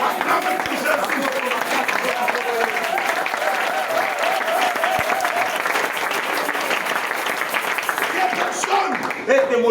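A church congregation applauds steadily throughout, a dense wash of clapping with a tonal musical drone and voices running underneath.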